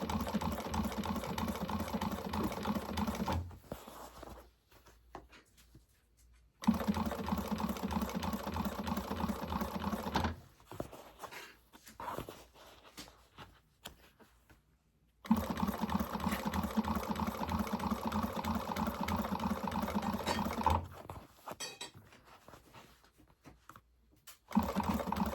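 A sewing machine stitches vinyl in steady mechanical bursts, three long runs separated by pauses, running close and alone at a moderate level.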